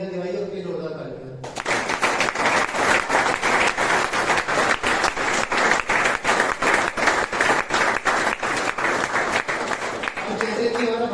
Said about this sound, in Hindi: उनके जोरदार तालियां।